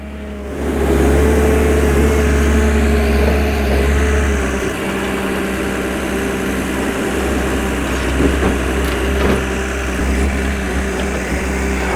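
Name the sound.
HAAS JD1510E traction winch engine running steadily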